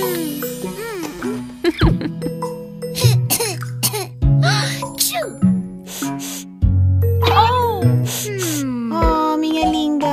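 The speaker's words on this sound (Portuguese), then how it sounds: "Tosse, tosse," Cartoon child coughing repeatedly in short bursts amid a children's song with music, singing voices and playful laughter throughout.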